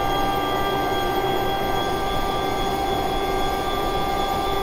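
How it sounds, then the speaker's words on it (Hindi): Vande Bharat Express train in Train Simulator Classic gathering speed, a steady loud rumble of wheels and motors with sustained high tonal hum, continuous throughout with no talk. "तो चलो एक्सेलरेशन करते हैं और इनको दिखाते हैं कि वंदे भारत क्या चीज है"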